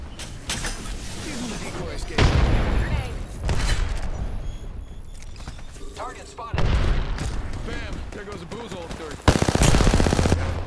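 Gunfire in the Apex Legends video game: loud bursts of automatic weapon fire and single shots in several clusters, mixed with booms and game effects. Speech is heard among the shots.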